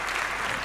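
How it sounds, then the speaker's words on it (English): A large crowd at a StarCraft esports tournament finals applauds in a dense, even wash of clapping throughout the brief moment. "The crowd is just clapping for some reason."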